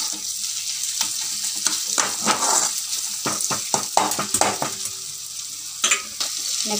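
A quail egg pepper fry is stir-fried in a pan, with a constant close sizzle broken by repeated spatula scrapes and metallic clinks against the pan, and no voices.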